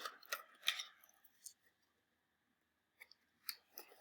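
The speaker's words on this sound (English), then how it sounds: "have to take my scissors and I'm creating tabs going all the way around. Just making little slits, fairly evenly spaced." Scissors cut little slits into cardboard: several crisp, close snips come in two short bursts, separated by a quiet pause.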